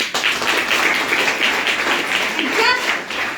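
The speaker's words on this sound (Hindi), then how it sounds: "एक बार ताली बजा दो" Audience applause at a business gathering, a crowd clapping steadily for a few seconds with a voice calling out over it near the end.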